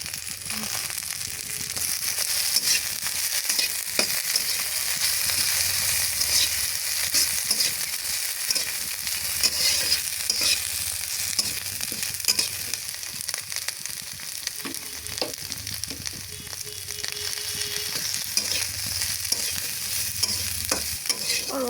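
Fish sizzles steadily in hot oil in a village kitchen pan, a dense crackling fry running throughout with occasional scrapes and stirs of the spatula, close and fairly loud.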